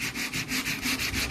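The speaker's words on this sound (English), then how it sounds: "give them a little bit of an additional sanding" Wood being sanded by hand on the notches of a camper galley makes a close, rhythmic rasp, with about seven even back-and-forth strokes in quick succession and no voices.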